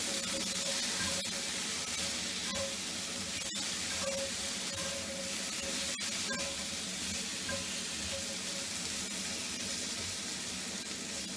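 Frittata vegetables sizzling steadily in a frying pan, a constant bright crackle with occasional scrapes and taps of stirring, close and alone.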